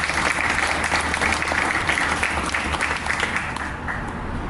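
Sustained applause from a large audience at the Kentucky Bourbon Trail Welcome Center, honoring a bourbon distillers' association chairman and board, a dense steady clapping that fills the room and holds at full strength throughout.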